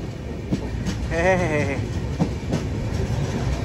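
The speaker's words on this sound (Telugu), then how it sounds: "గోవా ట్రైన్ ఎదురొచ్చింది పూణే నుంచి బయటికి రాగానే" The Goa Express, running from Vasco to Hazrat Nizamuddin, passes just outside Pune as a steady rolling rumble of wheels on rail. A brief horn-like tone rises over it, and a voice is faintly present.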